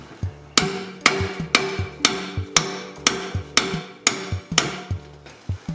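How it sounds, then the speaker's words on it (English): A big screwdriver is hammered to wedge open a fibreglass car part on a Scimitar under restoration, with about a dozen sharp metallic blows at a steady rhythm, close and loud. "Big screwdriver to wedge it open."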